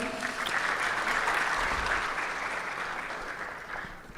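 Applause for a keynote speaker at a national antimicrobial resistance conference in Kigali, Rwanda, with an audience clapping steadily throughout and tapering slightly toward the end.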